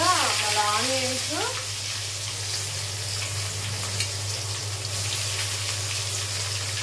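Onions fry in oil in a pan with a steady crackling sizzle, close and continuous, after a short voice-like tone at the start.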